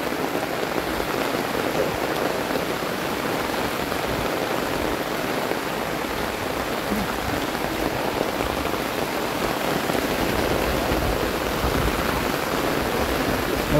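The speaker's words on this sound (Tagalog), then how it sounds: "malakas ang ulan" Heavy rain pours down steadily, a dense, loud, even hiss of drops hitting surfaces that holds unchanged throughout, with no talk.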